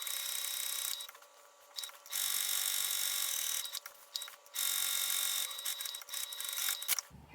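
Sewing machine stitching and back stitching a tote bag seam around a curve, loud close mechanical whirring in several bursts separated by short pauses as it stops and reverses.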